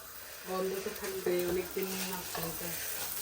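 Fish fries in a pan with a steady sizzle, while a person talks briefly over the top.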